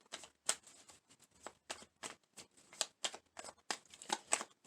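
Tarot cards being shuffled by hand, soft and close in a quiet room: a steady run of brisk riffling and sliding bursts with short gaps between them.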